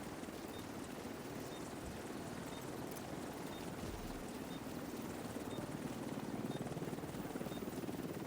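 In The Division 2, an extraction helicopter arrives with a steady, droning rotor roar that holds at an even level throughout, with no voices.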